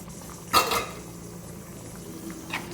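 A pot of chicken gravy simmering on the stove, with a short burst of bubbling and a spoon clink followed by a faint bubble later, close and fairly quiet.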